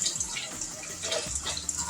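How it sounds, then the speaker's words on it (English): Tap water runs steadily over rice in a colander in a home kitchen, a continuous close splashing and trickling with no talk. "I'm going to let the water run just a little bit so that we can get all the starch out of it"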